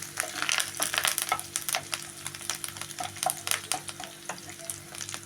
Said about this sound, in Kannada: ಹಸಿಮೆಣಸಿನ್ಕಾಯಿ ಬೆಳ್ಳುಳ್ಳಿ ಸ್ವಲ್ಪ ಎಣ್ಣೆಯಲ್ಲಿ ಫ್ರೈ ಆಗಲಿ